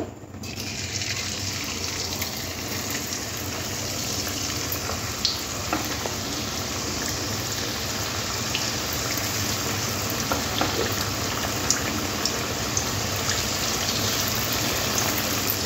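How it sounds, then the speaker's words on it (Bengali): Homemade potato french fries deep-fry in hot oil, a dense, steady bubbling sizzle that runs unbroken throughout with occasional faint clicks, close and fairly loud, with no voices. "বাকি যে আলুগুলো আছে একইভাবে ভেজে নিতে হবে।"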